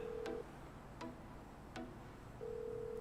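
Phone ringback tone in GTA 5, faint repeated electronic beeps in a steady ring pattern with soft clicks between them, playing on with nobody answering.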